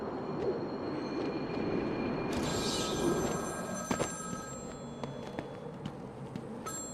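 A telephone rings in Batman: Arkham City, its electronic tone repeating a few times over a low, murky game ambience, with no talking.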